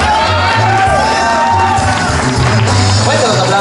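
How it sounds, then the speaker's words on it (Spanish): A crowd at a Mexican cowboy competition claps, cheers and whoops loudly and steadily, with voices shouting through the noise. "Fuerte los aplausos para Mr. Pepe, Pepe Tinoco"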